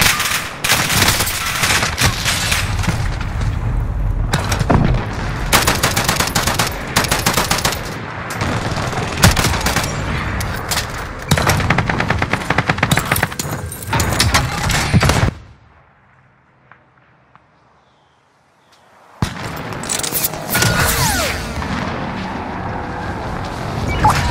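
Dense automatic gunfire in the video game Warzone, long bursts of rapid shots and explosions that fill most of the stretch, then a brief near-silent pause before shooting resumes.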